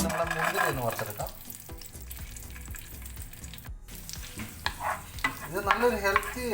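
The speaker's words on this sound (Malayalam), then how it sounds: "അത് നല്ലതായിട്ടൊന്ന് വറുത്തെടുക്കാം" Nuts roast in ghee in a pan for oats payasam, giving a soft continuous sizzle broken by repeated scraping and stirring strokes of a spoon, with brief murmurs of a voice and a little water sound.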